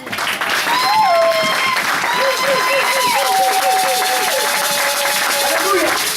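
A church congregation breaks into loud, sustained applause and cheering in praise of Jesus during a sermon, with whistles and excited voices layered over steady clapping throughout.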